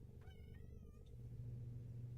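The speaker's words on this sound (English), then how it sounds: "I'm not sure if you guys can hear my cat." A pet cat gives a short, drawn-out meow, one wavering cry lasting under a second over a low steady hum, somewhat distant and quiet, no talking.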